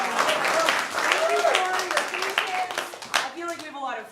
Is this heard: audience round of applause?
yes